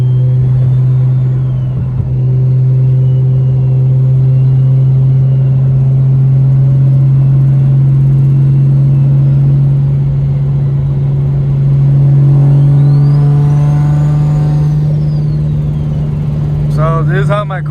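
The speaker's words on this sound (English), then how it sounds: "So this is how my car sounds like inside the cabin, like with the windows up." Cabin of a single-turbo car with a fully straight-piped exhaust and T51R turbo, heard with windows up: a loud constant low engine drone and rumble, with a rising turbo whistle and spool near the end.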